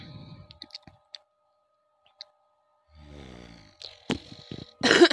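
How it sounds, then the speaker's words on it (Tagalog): A woman giving a tarot card reading coughs close to the microphone: a few harsh, throaty bursts with rasping breaths, following quiet clicks and near silence, and ending in a louder rough cough. "pasensya na po ha, ako ay inuubo."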